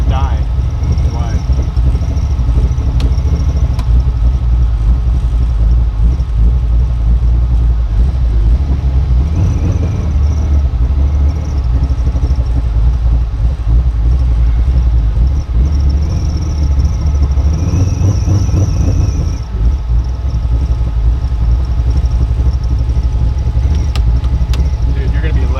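A Ford F150 prerunner engine idles roughly and barely stays running, a loud, steady low rumble filling the whole stretch with little change, while voices talk faintly over it.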